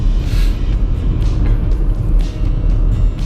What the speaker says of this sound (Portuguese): Esse carro aqui tem um nível de ruído considerável.